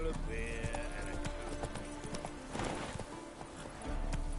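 Hooves of Geralt's horse Roach clip-clop steadily in The Witcher 3, a continuous walking rhythm over a busy game soundscape with background music, no talk.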